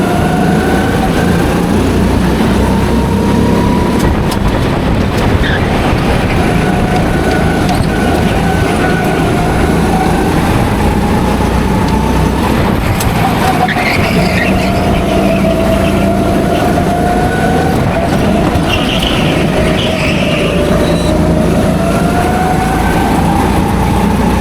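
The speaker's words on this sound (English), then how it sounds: "and then the green flag's out and we're racing" Race cars on the Pats Acres league-night track just after the green flag, heard as a loud, close, continuous engine roar whose pitch rises and falls as the cars accelerate and lift.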